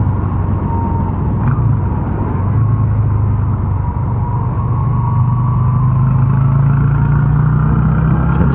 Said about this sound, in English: Bike's just happier because it's not revving so hard.